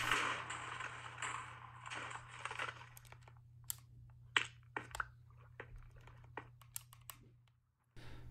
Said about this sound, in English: the L1 and the R1 buttons are a bit loud. They're a bit clicky